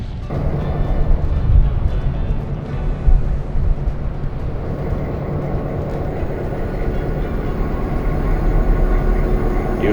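Steady rumbling of a train rolling along the rails of the Leadville, Colorado and Southern Railroad, with continuous low mechanical noise and faint clatter throughout, no talking.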